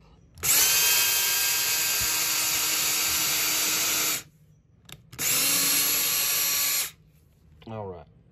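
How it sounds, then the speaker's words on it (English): An electric drill whines loudly in two bursts, a long one of about four seconds and then a shorter one, with quiet pauses between. "So I'm going to drill."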